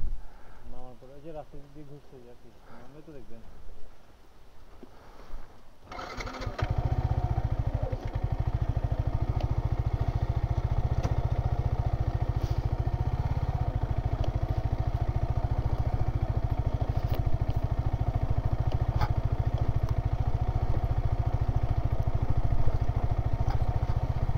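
A motorcycle engine picks up after a few seconds of quieter sound and then runs steadily and loudly while riding off-road, with clatter and a rough, continuous drone.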